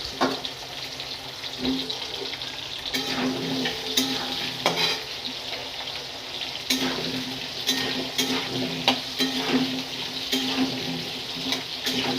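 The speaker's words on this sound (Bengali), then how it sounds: "তেলটার মধ্যে পেঁপে আলু দিয়ে একটু ভেজে নেবো।" Papaya and potato pieces fry in hot oil with a continuous close sizzle, broken by repeated scraping stirs at irregular intervals throughout.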